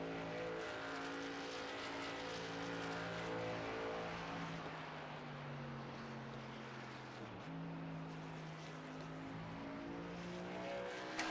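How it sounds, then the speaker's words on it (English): Race truck engine running in a series race, a steady droning roar heard from a distance, with a drop in pitch and a quick shift partway through before the engine note settles again. "You can hear him downshift"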